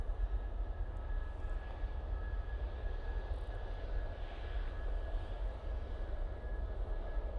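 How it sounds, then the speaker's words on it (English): A Cessna Citation CJ3 business jet arrives at Manchester Airport, a distant, low, steady engine rumble with a faint whine, heard alone. "So this is Cessna 52B Citation Jet CJ3."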